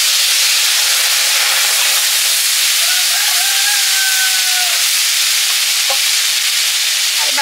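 Panch phoron spices hiss and sizzle steadily in hot oil in a pan, a loud continuous frying crackle with occasional stirring clinks and no talking.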